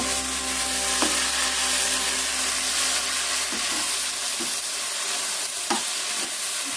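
Aloo methi sabzi, a potato and fenugreek dish, sizzles in a pan while a utensil stirs it, giving a steady frying hiss broken by a few close scraping knocks.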